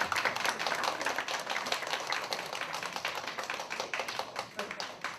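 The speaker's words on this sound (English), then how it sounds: "Oh, please clap for the Lord." Church congregation clapping for the Lord during a Sunday service, a steady, dense patter of many hands sustained throughout at moderate, slightly distant volume.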